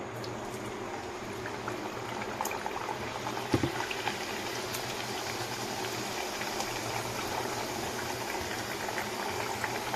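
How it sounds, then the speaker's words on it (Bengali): Papri frying in hot oil, giving a steady bubbling hiss at low volume with a single brief knock partway through, continuous and without pauses. "এইভাবে পাপড়িগুলো ভেজে নেব"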